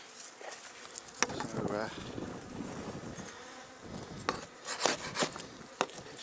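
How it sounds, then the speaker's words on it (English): Bees buzz around a beehive super while a hive tool scrapes and clicks against the comb, sharp taps standing out over a soft hum, close by, with a brief spoken word. "I'm just going to get my hive tool and try and clean it up without pissing it off too much."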